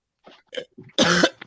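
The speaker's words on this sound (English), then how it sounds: "I'm having a coughing moment." A person coughs and clears their throat: a few light, rough throat-clearing bursts, then one loud, harsh cough close to the microphone, with no talking.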